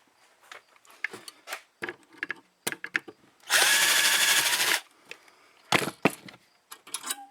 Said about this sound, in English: This will take a 5/32 drill